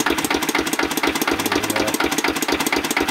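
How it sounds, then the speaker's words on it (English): An old Lister stationary engine that powered a garden shredder, running steadily with a rapid, even thumping beat and mechanical knock, loud and close with no voices. "final run of the engine."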